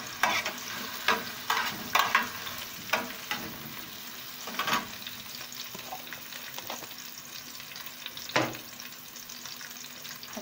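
A garlic, pepper and salt mixture goes into a hot pan and fries, with a steady sizzle broken by scraping stirring strokes, close and fairly loud, and no talking.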